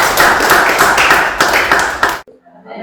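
A church congregation claps together in acclaim of the Lord during a worship service, dense fast rhythmic applause filling the space, ending abruptly, with voices under and after it.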